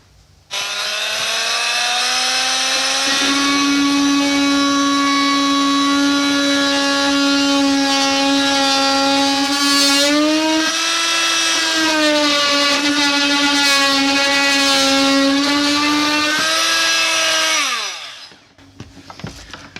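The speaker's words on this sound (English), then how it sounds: "I've got a bit of wood to trim off, so I'll just do that." A power saw trims a piece of wood on a narrowboat fit-out, making a loud, steady motor whine for about fifteen seconds. The pitch briefly shifts midway before the whine winds down and stops.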